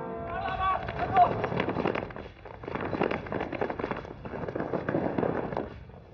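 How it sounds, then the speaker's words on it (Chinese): Rapid gunshots crack in dense bursts during a Chinese anti-Japanese war action film, loud and close, mixed with busy battle noise. "刚才听枪声是你们真打起来了？"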